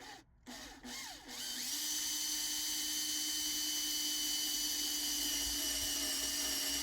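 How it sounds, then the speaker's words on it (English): A power drill bores a hole through interior trim in a Mercedes C-Class or GLC cabin, starting with a few short bursts and then settling into a steady, close, high-pitched whine that runs continuously to the end. "we're gonna make a hole with our drill in this location in the corner"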